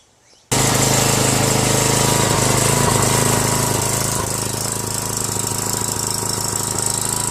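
A Tecumseh 5HP Enduro horizontal-shaft engine on a 2000 PSI pressure washer catches after a short quiet start, then roars loud and close at a steady run with a rough mechanical clatter.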